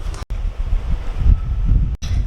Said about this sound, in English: It's actually a little bit windy and chilly this morning. You guys can maybe hear it through the mic.